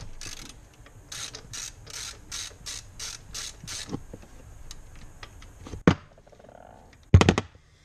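Quick bursts of ratcheting clicks from a wrench loosening the idler pulley on a BMW E46 engine, a rhythmic run of about nine strokes, then a pause and two sharper metallic clunks near the end, close and fairly quiet.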